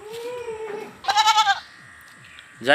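Sirohi and Haryana goats bleat nearby, first with one wavering, drawn-out call and then a short bleat at the end, over quiet background noise.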